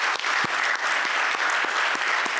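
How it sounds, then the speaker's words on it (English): An audience at a conference panel discussion gives a big round of applause for the people behind a network, dense and continuous clapping from a full room with a few sharper individual claps standing out. "can we give a big round of applause to the people behind the network?"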